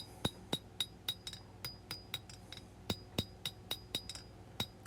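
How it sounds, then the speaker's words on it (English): Sharp metallic hammer blows drive a taper into a steel knife handle at a blacksmith's forge, about a dozen ringing strikes in an uneven rhythm, fairly close, with a faint low hum underneath and no talking. "And we'll hammer in our taper into the handle."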